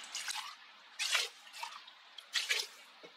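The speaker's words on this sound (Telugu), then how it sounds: "నీళ్ళు యాడ్ చేసాం కదా" Water is poured into a pressure cooker holding rice and lentils for sambar rice, coming as a few short, soft splashing bursts separated by pauses, quiet and close with no talk.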